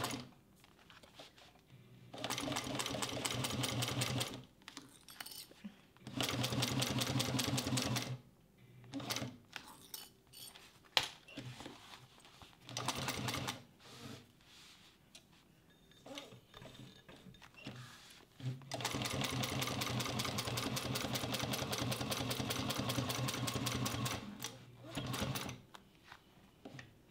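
A Juki 1541s sewing machine stitches in several steady, humming runs of a few seconds each. Short quiet pauses and faint handling clicks fall between the runs, and no one speaks.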